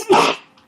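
A single short, loud sneeze bursts out close by, then fades quickly into quiet.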